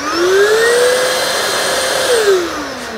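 A Metabo dust extractor runs loudly and close, a steady roaring whoosh with a whining motor tone that rises, holds and then dips slightly near the end.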